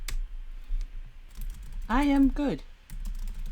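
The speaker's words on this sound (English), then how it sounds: "Oh, he's typing. He's typing." Typing on a computer keyboard, soft clicks running through the clip beneath a brief spoken phrase, with a voice breaking in around the middle.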